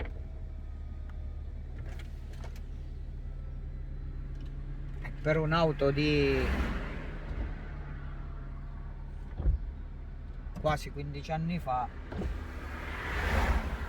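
The electric folding hardtop of a BMW 330d E93 convertible closes with a steady whirring motor hum and a few mechanical clunks while the parked car idles, and someone talks over it in Italian.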